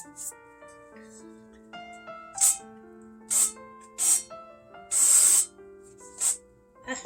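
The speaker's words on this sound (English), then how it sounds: "We're going to start by oiling our pan. I use my spray avocado oil." Several short hissing bursts of aerosol avocado oil sprayed into a pan, one longer than the others, over soft sustained musical tones in the background.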